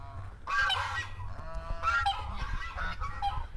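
Geese or ducks honking in a park near a riverside resort, several loud harsh honks in quick bursts close by, calling back and forth over low outdoor rumble, with no talking.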